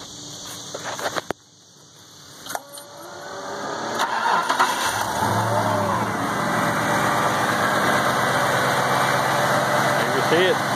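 A 1971-73 Ford Mustang with an EFI engine swap cranks and fires up after a few clicks and clunks, then settles into a steady, loud idle, with a voice talking over it.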